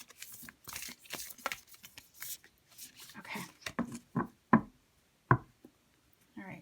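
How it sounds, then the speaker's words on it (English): A deck of tarot cards is shuffled by hand, giving a run of close, irregular riffles and sharp taps, with a voice speaking between them. "I'm going to shuffle this way, and then we're going to split the deck to get a card for additional guidance"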